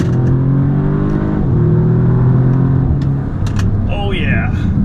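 An Audi S3 accelerates hard, its engine note rising steadily, dropping at a gear change and climbing again, loud and close from inside the car.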